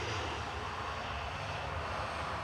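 KLM Embraer E195-E2 coming in to land at Manchester Airport, a faint, steady engine rumble with no distinct peaks over the short stretch.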